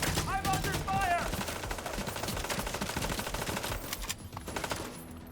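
Gunfire crackles in a video game firefight as rapid, dense automatic bursts run continuously and loudly, with a voice briefly heard over them.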